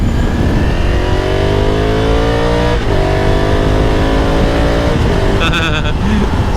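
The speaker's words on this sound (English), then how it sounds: "So the power of the engine, it sounds really good." A loud 2021 Honda Africa Twin Adventure Sport motorcycle engine revs up, its pitch climbing steadily, then drops and climbs again as it accelerates, with constant wind noise roaring over the sound.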